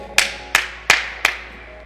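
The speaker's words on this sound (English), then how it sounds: "that clap was for you." Four sharp single hand claps ring out at an even pace, each one loud and close with a short decay into near silence during a workout session.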